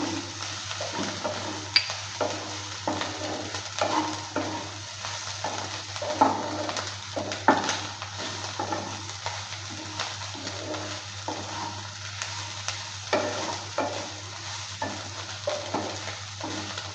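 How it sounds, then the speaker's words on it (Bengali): Pointed gourd peel frying with chili powder in a pan, stirred continuously: a steady sizzle runs throughout, broken by repeated scraping and stirring strokes and a low constant hum beneath. "নেড়ে চেড়ে নিয়ে ভালো করে ভেজে নিলাম"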